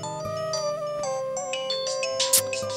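A mobile phone rings with an incoming call, playing a bright melodic ringtone of repeating electronic tones. The sound is clear and steady for a few seconds with no talking over it.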